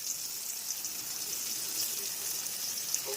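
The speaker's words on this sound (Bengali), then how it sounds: "অবশিষ্ট তেলের মধ্যেই দিয়ে দেবো পেঁয়াজ কুচি।" Chopped onion fries in oil left over from frying potatoes, a soft, steady high hiss with faint crackles, fairly quiet and without speech.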